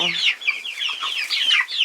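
Young chicks let out into their run for the first time, cluck and cheep in a quick overlapping chatter of short high calls, close and fairly loud with no voices.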